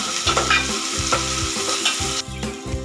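Loud, steady sizzling of onion and tomato sautéing in a pan, with stirring scrapes and a rhythmic background beat underneath, no speech.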